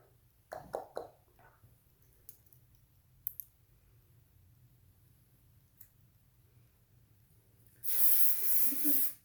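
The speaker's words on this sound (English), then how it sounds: "This big spray." A few faint clicks, then a loud steady hiss of aerosol hairspray lasting about a second near the end.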